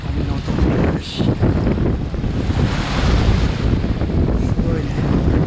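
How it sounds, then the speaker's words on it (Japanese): Ocean surf washes continuously onto a beach on the Sea of Japan coast of Niigata, facing Sado Island, with heavy wind buffeting the microphone throughout. "素晴らしい波の音もあるし"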